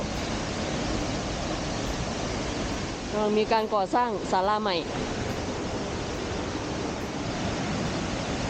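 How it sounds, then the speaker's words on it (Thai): Constant roaring rush of Tad Yuang waterfall near Paksong, Champasak, Laos, fills the whole clip, broad and steady; a voice briefly speaks over it partway through. "ได้ยินเสียงน้ำตกอยู่ข้างล่างแล้ว"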